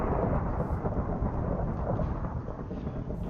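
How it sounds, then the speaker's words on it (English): Thunder in a video game lobby rolls as a continuous loud low rumble for a few seconds, with no voices over it. "Oh, it's thundering without rain."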